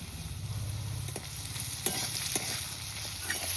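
Shrimp and taro frying in a pan with turmeric and chili powder being stirred in: continuous close sizzling with soft scraping stirs and a couple of light clinks.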